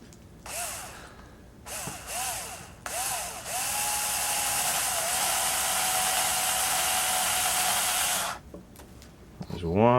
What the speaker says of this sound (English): I think I'm just going to put 2 screws in for now.